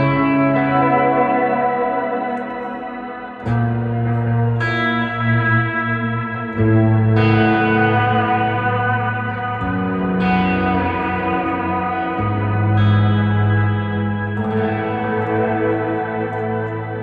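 An electric guitar played through a Strymon Volante delay with added reverb and chorus rings out in sustained chords, each change trailing into lush, echoing repeats that wash into one another, steady and prominent with no voices.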